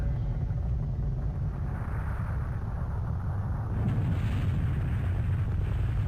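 An ICBM G-Mark-10 missile in Garry's Mod lifts off and blows up, heard as a deep, continuous roaring rumble that holds steady and swells louder toward the end, with no voices over it.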